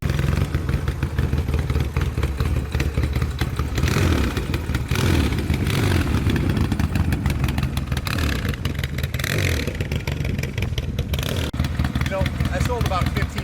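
A 1979 Yamaha XS650 motorcycle engine runs close by with a low, steady throb and brief rises in revs. Someone talks over it for most of the clip.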